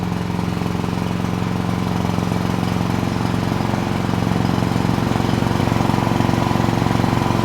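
Steady, loud drone of a backup generator engine powering a fire alarm system, running continuously up close with a constant low hum and rough mechanical clatter, no voices.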